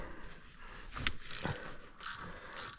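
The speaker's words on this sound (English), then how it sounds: "So I'll go around and get all these bolts out." Ratchet clicking as cover bolts are backed out on a 1975 Honda XL250, with short bursts of quick metallic clicks in a few separate spurts, close and fairly quiet.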